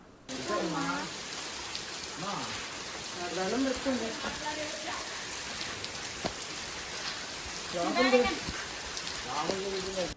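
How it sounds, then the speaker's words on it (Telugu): Heavy rain pours steadily at a temple, a constant hiss of drops hitting surfaces, while people talk intermittently over it. "ఫుల్ వర్షం తడిచిపోయాము"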